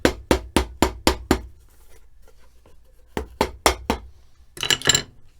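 A hammer strikes a shoe on a cobbler's bench during recrafting of Italian shoes, six sharp, evenly spaced blows, then a pause, four more steady hits and a brief flurry of clinking taps, close and loud with no talk.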